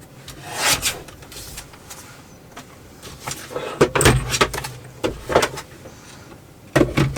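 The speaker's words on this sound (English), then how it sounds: "that's the side I want to fold, and I want to bring this side straighter." Paper is creased and folded into an envelope base shape for a junk journal, producing scattered close rubbing and crinkling strokes in uneven bursts, with no talking.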